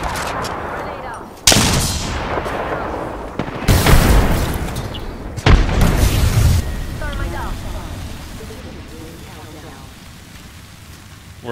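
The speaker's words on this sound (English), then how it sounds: "Grenades." Several grenade explosions go off in a squad-based shooter match. The blasts are loud and sudden, around 1.5, 3.7 and 5.5 seconds, and each is followed by debris-like rumble that fades slowly. Players talk faintly underneath.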